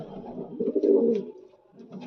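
A soft, low pigeon coo rises and swells in the middle, then fades, with a fainter coo returning at the end.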